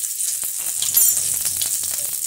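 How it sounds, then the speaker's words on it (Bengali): Cumin seeds hitting hot oil in a frying pan while cooking kakrol and potato curry, producing a loud, close, continuous crackling sizzle. "এবারে আমি কড়াতে 6 চামচ তেল দিয়েছি। এই তেলের মধ্যে দিচ্ছি সামান্য একটু জিরে"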